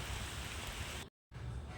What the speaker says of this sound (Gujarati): મિત્રો, વરસાદ આવી ગયો છે અને અમે પલળી ગયા છીએ